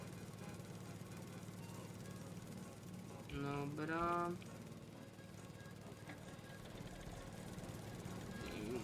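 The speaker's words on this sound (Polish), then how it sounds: "już tą kosiarkę można wyłączyć, żeby ona nam nie hałasowała" A lawn mower runs steadily while a field is being cleared of overgrowth, its low engine drone constant and fairly faint, with a person briefly speaking over it.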